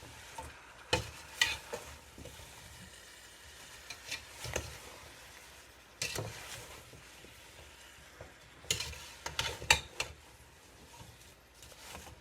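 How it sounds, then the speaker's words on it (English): A spoon stirs cinnamon-coated apple filling in a hot pan, giving repeated scraping strokes in irregular bursts over a soft sizzle, close up with no talking. "Dump in my cinnamon. You hear them? I'm going to mix it."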